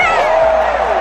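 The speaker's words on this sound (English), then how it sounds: "Listen to the crowd." Crowd at a Dallas Cowboys training camp practice erupting in loud whooping and cheering, a brief sustained roar of many voices.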